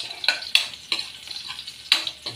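Crushed garlic browns in oil with a bright, close sizzle, broken by several sharp metallic spatula clinks against the pan at uneven intervals, fairly loud, with no one speaking.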